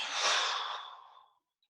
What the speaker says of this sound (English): And then a deep breath in and out.